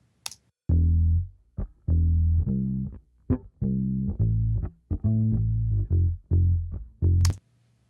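A short instrumental recording passes heavily through an 1176 compressor driven hard, a string of punchy low-pitched notes and phrases with dense, squashed sustain and quick gaps between them, with no voices.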